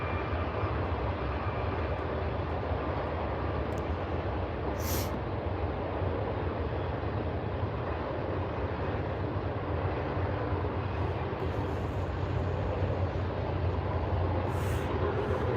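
A fairly short freight train pulled by three locomotives rolls past, giving a steady, loud, unbroken rumble with a faint higher hiss on top for the whole stretch.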